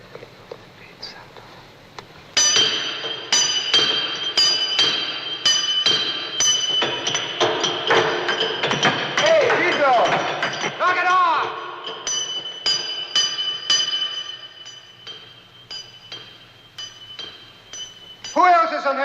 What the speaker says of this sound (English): I could have swore I heard another hammer.